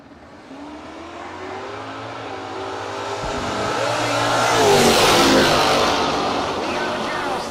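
A Camaro race car engine at a no-box drag racing event, a loud revving roar that builds and swells toward the middle and then holds, with an announcer talking over it.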